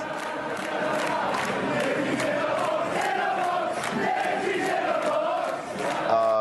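Crowd cheering heard through a played news clip, a continuous roar of many voices with shouts and rhythmic chanting, fairly loud, ending with a brief musical tone.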